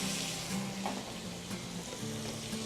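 Whole butter with sage leaves sizzling in a pan as the butter browns, a steady close crackling hiss with a faint tonal hum beneath, no talking.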